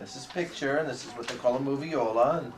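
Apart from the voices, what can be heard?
No everyday noises stand out.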